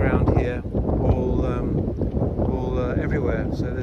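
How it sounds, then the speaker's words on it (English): Strong wind buffets the microphone outdoors at a stone circle strewn with prayer ties, a steady low rumbling roar with gusty surges, with a person talking through it. "It's a bit windy, I might have to cut the soundtrack out"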